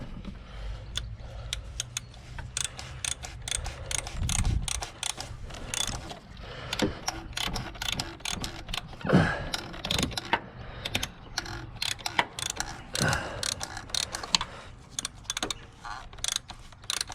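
A ratchet tightens a bolt on a Ford B-Max, with rapid repeated clicking strokes in irregular bursts, close and moderately loud, mixed with clinks of metal and a faint creak.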